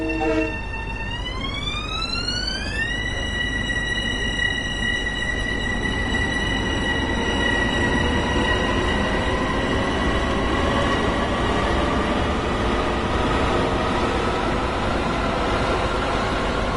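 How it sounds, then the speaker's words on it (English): Train arriving at a station in the Train Sim World game on the Long Island Rail Road, a rising horn-like tone settling into a sustained note over continuous loud rolling rumble and wheel noise, with no talking. "There's another train coming in. A long one too."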